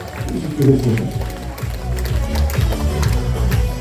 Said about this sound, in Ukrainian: Шалені оплески